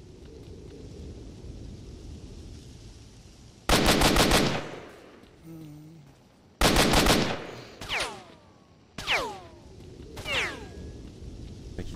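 Bursts of automatic gunfire from the video game S.T.A.L.K.E.R.: Shadow of Chernobyl, two loud sustained volleys followed by sharper shots with ringing, descending echoes, with no talk.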